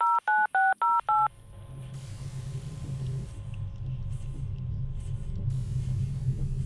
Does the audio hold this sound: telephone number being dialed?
yes